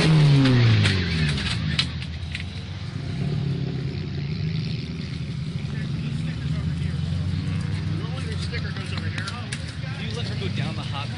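A race car's engine rumbles steadily as it rolls slowly down the cold side of the pits, with a low, continuous drone that stays fairly close and even, and a voice talking over it.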